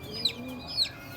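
Royal Teddy pigeons calling twice in quick succession, two short soft bird notes close by with a faint steady background hum.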